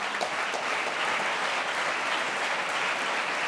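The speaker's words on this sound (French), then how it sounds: "on peut l'applaudir." A crowd claps at the Geneva sports awards night, dense sustained applause from a full room, loud and continuous with a few sharper claps standing out near the start.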